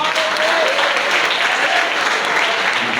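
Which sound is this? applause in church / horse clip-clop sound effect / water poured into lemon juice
applause in church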